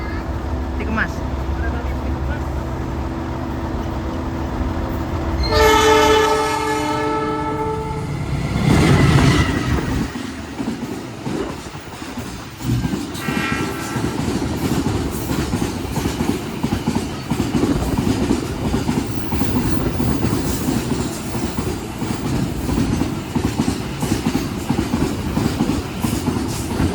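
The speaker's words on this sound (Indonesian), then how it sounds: "Persiapan berjalan langsung kereta api kontainer Peti Kemas." A container freight train rumbles past close by in Indonesia, a steady heavy rolling roar with some rhythmic clatter of wheels, preceded by a brief tonal horn-like blast.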